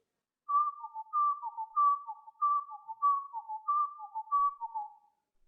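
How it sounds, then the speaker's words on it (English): Black-collared barbet pair calling in duet, a clear repeated two-note pattern of higher and lower whistled phrases interlocking in steady rhythm, about eight cycles, close and alone with no other sound. "the familiar call of this barbet is actually an impeccably timed duet between the sexes"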